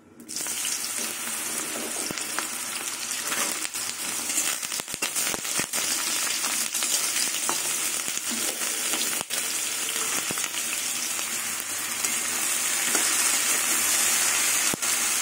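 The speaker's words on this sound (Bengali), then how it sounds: "এবার বেগুন আর আলু দিয়ে দেবো" Eggplant and potato slices fry in hot oil with a dried red chilli, giving a loud, steady, dense sizzle that holds for the whole stretch. A few sharp crackles and pops break through early on, and there is no talk.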